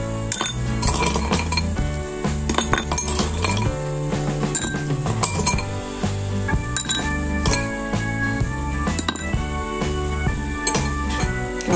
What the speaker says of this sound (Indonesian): Setelah itu kita tambahkan es batu.